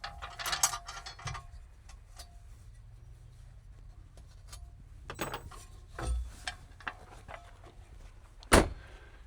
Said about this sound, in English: let's grab the jack out of the mount